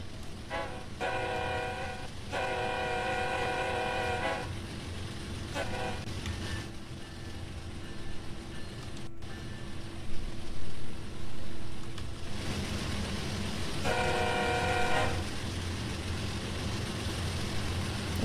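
Model locomotive crossing an interchange track on a layout, a steady rolling rumble with several bursts of a horn-like toot sounding at intervals, close and moderately loud.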